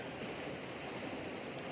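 Mountain creek water on Bear Creek near the John Muir Trail rushes in a steady, broadband wash, close and continuous throughout with no voices.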